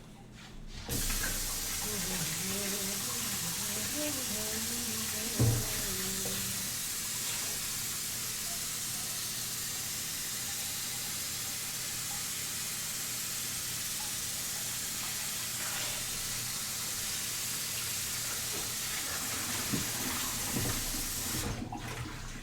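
Tap water runs steadily over a utensil being rinsed at a kitchen sink while baking salted caramel pecan pie bars, a constant hiss lasting the whole stretch with a few brief clinks, and a voice speaks briefly near the start.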